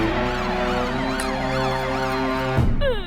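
A loud siren wails continuously in rising and falling sweeps, close by, with a brief clunk and pitch drop near the end.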